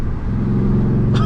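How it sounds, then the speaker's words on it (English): A car engine running with its muffler deleted growls loud and close during a quick downshift, a steady deep rumble that ends in a brief rising blip of revs. "Let me do a quick little downshift."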